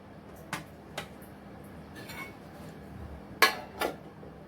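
Kerala idiyappam being served from its mould onto a plate, with a few sparse, light clinks and taps of dishware spaced apart in a quiet kitchen.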